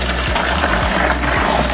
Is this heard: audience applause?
no